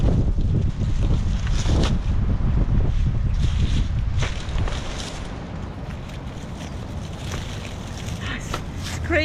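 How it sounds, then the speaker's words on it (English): Strong wind blows outdoors by the water, buffeting the microphone with loud, steady low rumbling gusts that ease a little partway through. "It's crazy windy down here"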